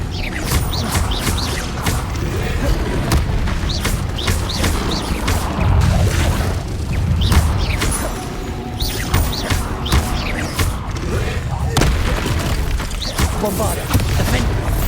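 Spell explosions from Bombarda and Confringo cast in Hogwarts Legacy, dense repeated booms and crashes with whooshes over continuous game noise, loud and busy throughout, with a voice speaking over them.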